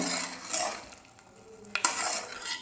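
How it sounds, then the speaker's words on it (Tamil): Boiling homemade grape squash syrup stirred in a pot over a low flame, a soft bubbling simmer with a spoon scraping and tapping the pot, one sharp clink near the end, close by and without talk. "வச்சுட்டு நல்லா கிளறி கொடுங்க"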